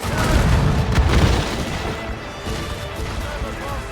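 Heavy ship cannon booms from a naval battle in the video game Assassin's Creed Rogue, a loud rumbling volley in the first second and a half that fades into a lower, rolling din.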